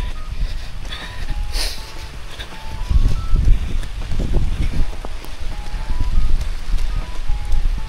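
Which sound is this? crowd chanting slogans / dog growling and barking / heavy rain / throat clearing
heavy rain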